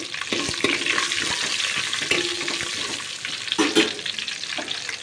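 A generous handful of curry leaves frying in a pan, giving a dense crackling sizzle with repeated stirring scrapes and clicks, and a louder burst of spatter toward the end, without speech.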